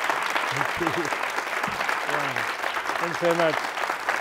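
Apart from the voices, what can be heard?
audience applause after a film Q&A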